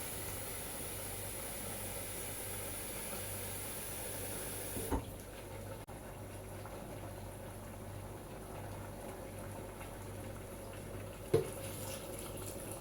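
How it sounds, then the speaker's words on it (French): Water pours steadily into a saucepan holding sauce for a white bean and palm oil dish, a soft continuous hiss that cuts off partway, leaving a quieter background with a couple of light knocks. "J'ajoute de l'eau."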